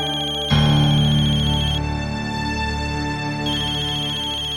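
A phone ringtone starts abruptly and keeps ringing loudly and steadily as a repeating electronic melody, with no talk over it.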